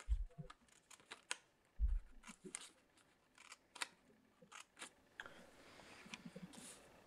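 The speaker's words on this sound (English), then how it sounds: "Next, cut little slits around the piece of paper like I'm doing here." Scissors snip small slits around a piece of scrapbook paper for a jam jar lid, making scattered sharp clicks and a couple of soft thumps, close and quiet.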